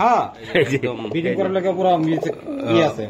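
Budapest pigeons coo in repeated soft, throaty calls close by, with someone talking over them.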